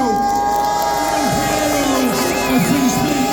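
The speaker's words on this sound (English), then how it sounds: "Let's have an absolutely massive round of applause for Tao" A crowd at a London free-speech rally cheers and shouts for a speaker, a dense, steady wall of voices that swells slightly toward the end.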